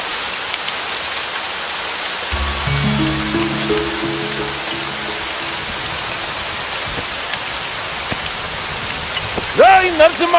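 Heavy rain pours steadily through a rural farm scene in a Telugu action film, a dense continuous hiss, with a low musical tone swelling midway and a brief voice near the end.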